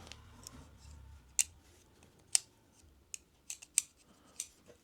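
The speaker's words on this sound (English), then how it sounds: "Then there are the scissors, which activate like this. There's a click." Multitool scissors from a ROCKTOL GEN-R 27-in-1 snipping open and shut close by, with about six sharp metallic clicks spaced irregularly over a quiet background.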